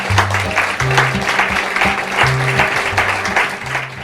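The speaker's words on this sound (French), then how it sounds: "on peut l'applaudir." Audience applause for historian Jérôme Baschet at a bookshop talk, a loud, close wash of clapping with low, steady musical tones sounding underneath.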